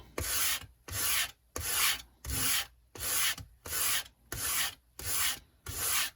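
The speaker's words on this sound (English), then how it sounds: "equal pressure along the front, otherwise you'll get uneven leading edge sanding" Rhythmic sanding on the leading edge of a wooden model rocket wing, eight even back-and-forth rasping strokes with short pauses between, close and clear with no talking.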